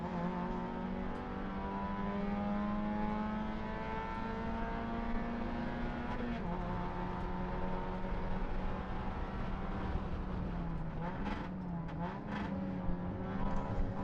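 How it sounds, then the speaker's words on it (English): A race car's engine drones loudly and steadily during a race, its pitch drifting down as it shifts down to second gear, followed by brief revs and blips near the end, heard from inside the car. "you can hear me going down to second gear"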